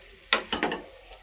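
Sliced bitter gourd (kakarakaya) frying in a pan, stirred with a few distinct scraping strokes over a soft, steady sizzle, close and fairly quiet.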